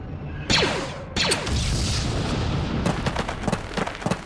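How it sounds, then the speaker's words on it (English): An explosive charge detonating on a bunker in a LEGO Star Wars Clone Wars game, heard as two sharp booming blasts followed by crackling debris and scattered pops, loud and close with no talk. "The charge is set and ready to detonate."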